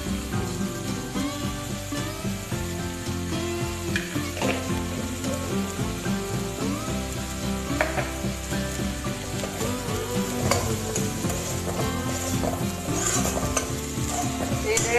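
Pumpkin pieces sizzle in a pan over a low gas flame while a spoon stirs them, with continuous frying hiss and repeated scraping and clinking of utensil against pan.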